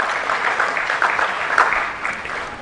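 Audience applause at the live Ghana Teacher Prize 2025 ceremony, a continuous even wash of many hands clapping throughout, moderately loud with no talk over it.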